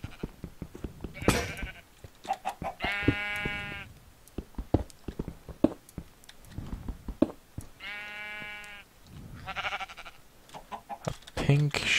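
Chickens cluck in a modded Minecraft world alongside sheep bleats, with two clear drawn-out calls and scattered short clucks and clicks throughout, fairly close and moderately loud.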